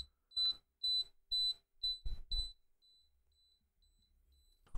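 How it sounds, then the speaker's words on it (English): Beeping from an M5Dial Bitcoin price ticker alarm: a run of about six sharp, evenly spaced electronic beeps, close and clear, fading to quieter repeated tones before stopping. "reach my target price, M5Dial will beep"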